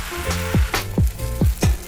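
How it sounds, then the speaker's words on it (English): Crepe batter hits a lard-greased pan and sizzles, a close crackling fry with several sharp spitting bursts rising over a steady hiss. "Batter goes into the center."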